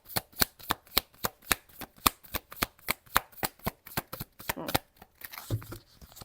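Tarot cards are riffled and shuffled by hand in a quick run of sharp, crisp flicks, close and fairly quiet, with softer handling at the end.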